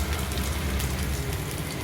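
Green chilli, ginger, garlic and curry leaves sautéing in a hot pan for crab rasam, a dense, steady sizzle and crackle heard up close with no talking.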